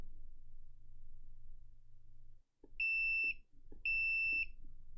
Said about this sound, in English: now, when I push on the button, we should get a beep